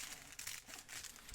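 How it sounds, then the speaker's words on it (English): Scissors cutting down a plastic bubble mailer for a handmade journal cover, giving a quiet, close series of crinkling, crackling snips and rustles with no talk. "I'm going to go ahead and cut my bubble mailer down."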